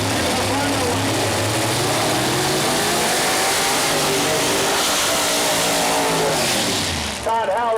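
Pro Mod door-slammer drag race cars, a '68 Camaro among them, roar loud and steady at Mooresville Dragway with rising engine revs, an announcer's voice running over the din.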